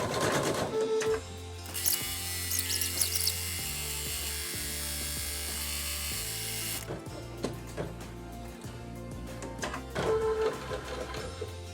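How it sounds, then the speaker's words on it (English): Embroidery machine sewing the back of a medical mask onto the front in the hoop, a close, steady mechanical rattle and clatter with rhythmic ticks and a brief high whirring stretch. "This last step is to sew the back onto the front."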